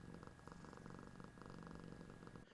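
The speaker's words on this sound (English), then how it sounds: "if you hear purring right now, that is my cat sitting on my lap" A cat purrs steadily and softly while sitting on a person's lap, a continuous close, low rumble with a faint rhythmic pulse throughout.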